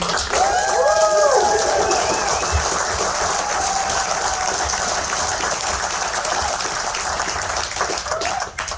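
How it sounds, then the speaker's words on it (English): Outdoor crowd at a flag raising and ribbon cutting ceremony for a home awarded to an Air Force master sergeant applauds steadily, a broad sustained wash of clapping that holds for several seconds before tapering, with faint voices mixed in. "let's have a round of applause for that amazing escort this morning"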